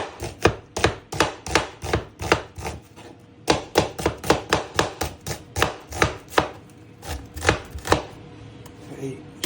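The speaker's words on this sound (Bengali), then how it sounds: "এখন কাটা হবে পেঁয়াজ" A knife chops onions on a board in a home kitchen, making a fast, steady run of sharp, close knocks. One short pause comes partway through, and then the even chopping picks back up.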